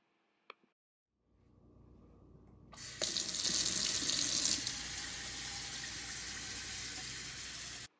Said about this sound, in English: washing my hands before I get started cooking